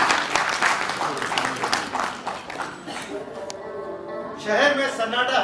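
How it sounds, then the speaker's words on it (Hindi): A theatre audience claps loudly to welcome the stage play Rishta. The applause is steady for about three seconds, then dies away as a performer's voice begins speaking. "तो जोरदार तालियों से स्वागत कीजिए कहानी रिश्ता।"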